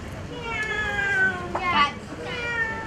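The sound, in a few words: storyteller imitating a cat meowing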